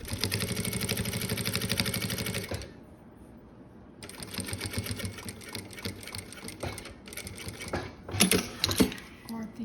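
A sewing machine runs in a fast, steady mechanical chatter while stitching material for a cosmetics pouch, pauses briefly, then resumes with quicker bursts and a louder clatter near the end.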